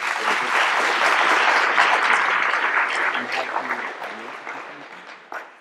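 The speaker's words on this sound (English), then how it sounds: "Let's give a round of applause to all our winners." Audience applause for award winners at an academic conference, a dense sustained burst of many hands clapping at full strength that gradually thins and fades toward the end.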